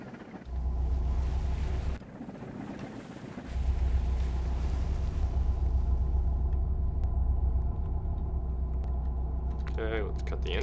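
Motorboat engine running in ARMA 3, a steady loud low rumble that dips briefly early on, then holds on, with a voice talking over it near the end.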